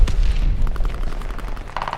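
Gunfire from the Nikita AVT rifle in the game Call of Duty Modern Warfare 2: a burst of heavy booming shots close up, followed by a steadier run of rapid reports and thuds, with no talking.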